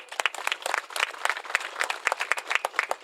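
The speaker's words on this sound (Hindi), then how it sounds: "इनके मान सम्मान में एक ताली हो जाए।" A small audience claps in honour of guests at an Ashoka Vijayadashami celebration in Patna, producing a few seconds of scattered, uneven handclaps at moderate volume.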